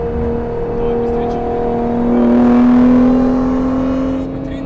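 An 850 hp Shelby GT500KR and a 700 hp Nissan GT-R accelerate in a race, heard as a loud, steady engine drone that climbs in pitch and swells midway before easing slightly.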